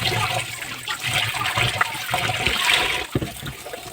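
Tap water runs and splashes while pieces of kalbaush fish are rinsed one by one, a close, continuous gushing with uneven surges and brief dips as the flow is interrupted by hands and fish.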